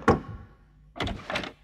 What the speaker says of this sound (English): there was a loud knock on the door